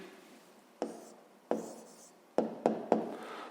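A short written answer goes down by hand: five quick, distinct pen-on-paper strokes in uneven rhythm, close and fairly quiet, with no talking.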